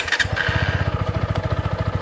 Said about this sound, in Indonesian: pertama kita nyalain mesin motor ini suaranya suara mesinnya halus ya